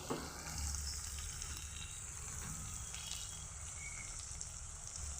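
Turmeric and chili powder frying in hot oil while making a spicy parshe fish curry, a steady, close sizzle with soft crackle and occasional stirring, no voices.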